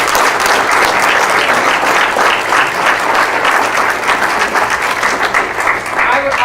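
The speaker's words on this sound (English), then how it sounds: "Let's give both these candidates a round of applause." Loud, close applause from an audience at a county supervisor candidate forum rolls on steadily for several seconds, thick and continuous with individual claps audible throughout.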